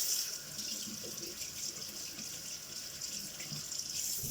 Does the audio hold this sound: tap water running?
yes